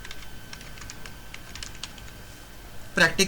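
Keys tapped on a computer keyboard while typing a folder name, a scatter of soft clicks followed by a louder, denser burst of keystrokes at the end as enter is pressed.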